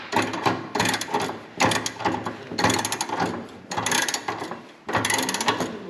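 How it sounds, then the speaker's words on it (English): Ratchet straps being loosened on a 2020 Harley-Davidson Road Glide Special, five bursts of rapid clicking ratchet mechanism, close and loud, separated by brief pauses. "Loosen these straps up first."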